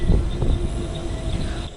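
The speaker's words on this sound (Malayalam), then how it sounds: "അപ്പോൾ നമ്മളിവിടെ പോസ്റ്റാക്കി വണ്ടി ഇതാ കയറി വരുന്നുണ്ട്." Passenger train pulling into Barkur station on the Konkan line, a steady low rumble and rolling rail noise heard up close from a halted train, with no talk.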